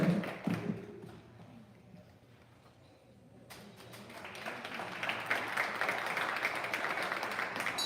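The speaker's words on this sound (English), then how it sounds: "give these kids a really big round of applause" An audience at a livestock stock show applauds young showmen, clapping swelling from a quiet start into a broad, steady round of applause in a large arena, after brief sounds at the beginning.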